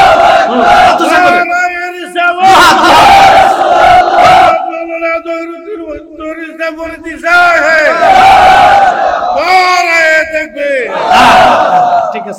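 A large crowd roars a loud, unified chant in repeated waves answering a leader's call at a late-night religious gathering, the shouts swelling and dropping between calls.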